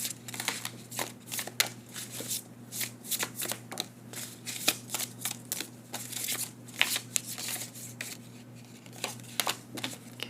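Tarot cards shuffled by hand close up, a rapid run of crisp riffling and slapping bursts repeating steadily over a faint low hum, with no talking.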